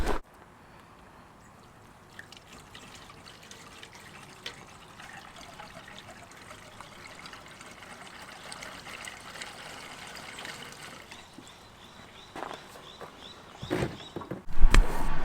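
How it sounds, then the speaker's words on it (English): Diesel pours into a tank with a thin, uneven trickle and gurgle that starts faint and grows louder and busier toward the end, ending with a few sharper splashes and knocks. "we're gonna put diesel in that tank and fire it up"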